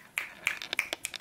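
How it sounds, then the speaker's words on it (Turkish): A run of about eight sharp single claps in an irregular rhythm, close and fairly crisp, with nothing else heard around them. "Kendim böyle alkışlayayım"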